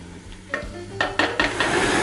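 Onions browning in a pot, stirred and scraped with a wooden spoon for French onion soup: soft sizzling throughout with several scraping strokes, the later ones louder and more frequent, no talk.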